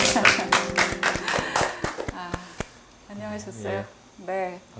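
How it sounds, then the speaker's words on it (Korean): Audience clapping at a Korean poetry recitation talk show, a burst of sharp individual claps for about two seconds that thins to a few scattered claps, then gives way to a voice speaking. "박수 칠까요?"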